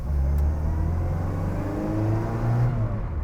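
A BL Mini 1275 GT drives along and accelerates, its engine giving a steady, close mid-pitched drone with rising harmonics as it pulls, and no one speaking.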